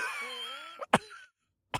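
A narrator imitates an older man coughing from the burn of alcohol, with a few short, harsh bursts at close range after a stretch of voiced, strained sound.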